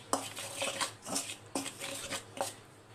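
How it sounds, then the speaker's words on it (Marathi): A spoon works through hot kadakni dough in a bowl, giving repeated scraping clinks and soft stirring thuds in an uneven rhythm, close and moderately loud with no talking. "चमच्याने हे असं व्यवस्थित मिक्स करून घ्यायचं"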